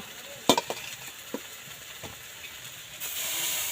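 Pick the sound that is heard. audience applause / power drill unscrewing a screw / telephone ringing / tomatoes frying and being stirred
tomatoes frying and being stirred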